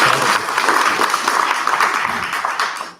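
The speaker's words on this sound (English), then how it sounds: "Yeah, you can clap, absolutely" Audience applause at an all-college meeting, a dense, steady wash of many hands clapping at close range that fills the whole stretch before tapering off at the end.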